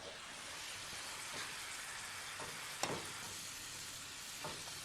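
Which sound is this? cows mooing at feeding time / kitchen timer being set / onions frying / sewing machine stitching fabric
onions frying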